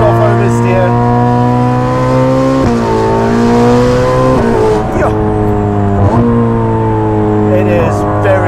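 A Ferrari 458 Speciale fitted with a Novitec exhaust screams loudly at high revs, rising through each gear before abrupt shift dips, with someone talking over the engine from close inside the car.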